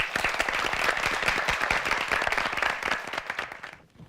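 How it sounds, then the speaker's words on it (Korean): Audience applause at a high school debate competition, a dense burst of clapping that holds steady and then fades out near the end, fairly loud and without talk. "박수로 들어보겠습니다."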